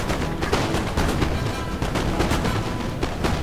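Dense, continuous musket volleys crackle and boom through a Napoleon: Total War battle, overlapping shots forming a steady roar of gunfire with no speech.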